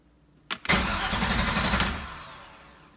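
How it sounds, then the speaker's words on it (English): An Indmar 5.7L inboard engine on a Mastercraft boat is bumped over by its starter: a short cranking burst, then a loud churning engine roar that runs for over a second before winding down, close by with no talk. "I'm just basically just gonna bump the motor."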